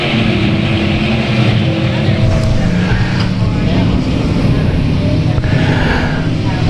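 Race cars roar around a South Texas Speedway oval as racing resumes, a loud, continuous engine drone filling the air with a commentator talking over it.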